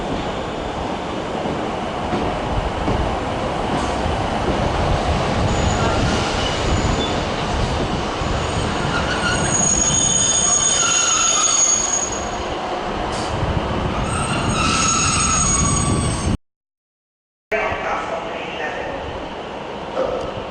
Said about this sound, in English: There's another northern train pulling in.